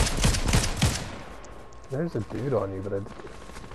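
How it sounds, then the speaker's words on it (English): Rapid bursts of gunfire from a shooter video game crackle for about a second, then fade out while someone speaks over the quieter remainder. "I was shooting blindly at him because I didn't see him"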